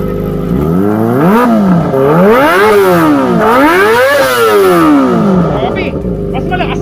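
A warmed-up Kawasaki Ninja ZX6R fitted with a cheap aftermarket exhaust pipe is revved up and down several times close by, loud, rising and falling engine blips with clattery texture.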